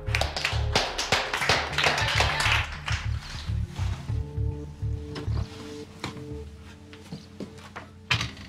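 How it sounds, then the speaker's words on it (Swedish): Audience applause rings out for Ida, dense and lively at first over background music, then thinning into scattered claps. "En stor applåd för Ida."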